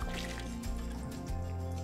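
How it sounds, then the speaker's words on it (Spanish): Rehydrated pasta strained through a steamer basket in a Mambo 11090 kitchen robot, a loud continuous wet trickle and splash of draining water that fills the whole moment. "nos ayudamos de otra vaporera para colarla."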